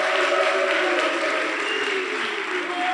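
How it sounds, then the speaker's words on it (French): An outdoor concert crowd applauds the orchestra musicians, a loud continuous roar of clapping with tonal music or voices faintly threaded beneath, steady from start to finish. "il faut les applaudir encore une fois"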